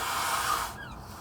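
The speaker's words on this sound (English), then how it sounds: "I have to blow my nose real quick." A person blows their nose in one loud, broad, breathy burst lasting over half a second, then it fades into quieter room noise with faint tonal traces.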